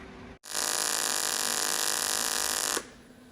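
A wire brush scours aluminum for a fuel cell fabrication, a loud, steady high-pitched powered whir lasting about two seconds and then stopping abruptly, with quiet room tone before and after.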